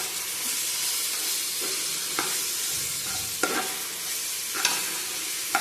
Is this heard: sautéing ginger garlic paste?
yes